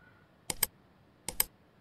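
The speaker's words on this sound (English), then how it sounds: "Now hit the 3 keys at the same time. Then Task Manager will open." Computer keyboard keys pressed together as a shortcut to open Task Manager: two quick pairs of crisp clicks in close succession, separated by a short pause, close-up in a quiet room.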